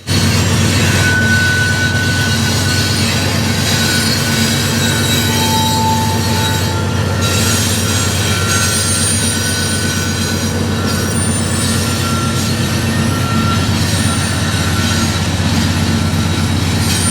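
A BNSF warbonnet yard locomotive shoves a train at a railroad days event, a loud continuous rumble of rolling cars with high wheel squeals and occasional clicking.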